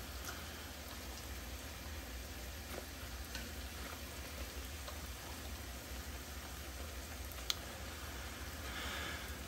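Thin-cut homemade tortilla chips fry in hot oil with a faint, steady crackling sizzle, broken by a few sharper pops.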